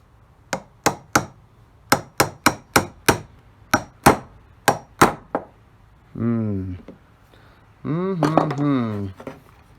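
A chisel is worked against 3D-printed press tool wedges held in a benchtop vice: about a dozen sharp, close strikes in an uneven rhythm, then two longer tonal, voice-like sounds.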